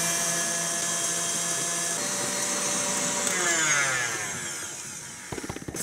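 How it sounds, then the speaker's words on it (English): An electric whisk beats four eggs in a mixing bowl with a steady, close motor whine that holds for several seconds, then winds down into a few brief rattles. "4 eggs in a mixing bowl, and we're gonna whisk this until it's light and fluffy"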